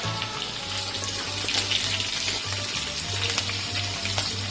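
Green chillies dropped into hot oil for vegetable fried rice crackle and sizzle steadily, with a low pulsing hum from the stove underneath.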